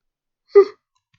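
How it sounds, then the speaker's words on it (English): A single short, breathy yawn from a nearby person, rising and trailing off over about a quarter second in otherwise silent surroundings. "Ooh, yawn."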